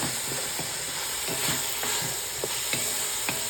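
Beef is stirred with cumin, mixed seasoning and oregano in a pan, giving soft scraping and stirring strokes every half second or so over a low, steady sizzle, close and fairly quiet.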